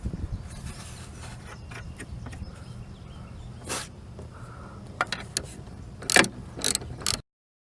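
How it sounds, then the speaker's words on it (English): Nuts being tightened onto the top of a rear strut on a 1997 Buick LeSabre, heard as faint scattered mechanical clicks and ratcheting bursts, louder near the end, over quiet room noise. "I can go ahead and tighten these nuts"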